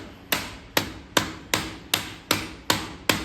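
Eight sharp metallic hammer strikes on a Dana 60 differential pinion ring out alone at a steady, even rhythm, each blow fading quickly before the next.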